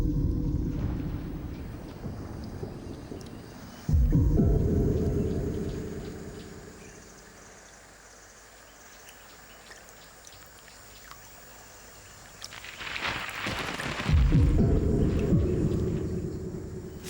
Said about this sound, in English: This rolling thunder announces a crucial event for all of the inhabitants of the river and its banks, the rainy season.